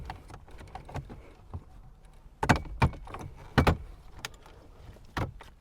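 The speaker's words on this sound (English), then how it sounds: "now we can go ahead and pry this open" Plastic trim around the digital instrument cluster of a sixth-generation Chevrolet Camaro being pried loose, a run of sharp clicks and snaps in loud bursts near the middle and end, with quieter rustling and tapping between them.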